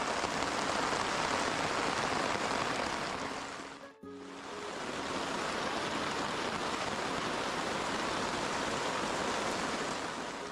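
Heavy rain pours over forest and lake in a thunderstorm, a dense steady hiss filling the whole stretch; the roar briefly dips near the middle before resuming at full strength, with no voices.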